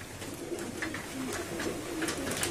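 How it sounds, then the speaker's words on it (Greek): Racing pigeons coo softly and repeatedly inside a loft in Larisa, low murmuring calls layered over a steady hiss of background noise, moderately distant and without any talking. "Κοιτάξτε κάτι περιστέρια."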